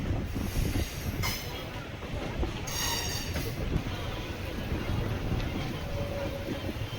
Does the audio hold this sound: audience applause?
no